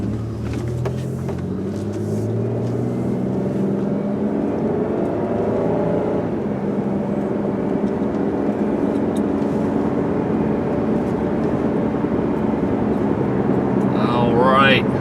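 Inside a blue 2004 Pontiac Grand Prix GTP pulling onto the road and accelerating smoothly toward 55 mph, the engine drones steadily and rises in pitch over road and wind noise for the whole stretch, with no talking.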